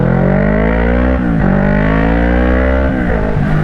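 A 2010 Kawasaki ER6N parallel-twin motorcycle engine runs loud and close after repair and timing adjustment. It holds a steady throbbing idle, and two brief blips of the throttle lift the pitch for a moment.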